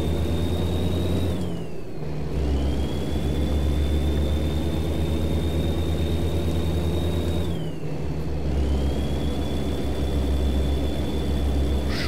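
A big rig idles in American Truck Simulator, a steady low engine drone with a constant whine above it, briefly dipping twice as if shifting or adjusting, with no talk.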